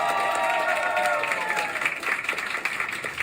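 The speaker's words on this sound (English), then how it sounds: "Please give a round of applause." Audience applause at a comedy stand-up show in Hong Kong, a dense wash of clapping mixed with crowd noise and a voice near the start, sustained throughout.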